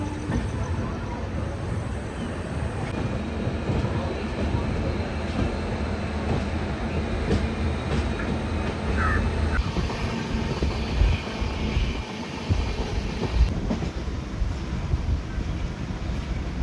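A passenger train runs with a continuous heavy rumble and rattle, loud and steady throughout, with a slight shift in tone partway through.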